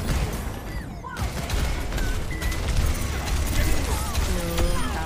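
Dense, continuous gunfire and impact effects from a hero shooter match in Overwatch, with bursts and booms layered throughout at steady loudness, while a player talks over the action.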